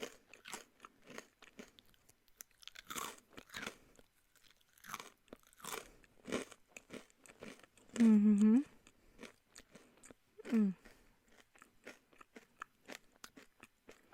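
Crisp crunching from chewing a dry snack, a steady run of short bites across the clip, close to the mic, with a couple of brief hummed vocal sounds.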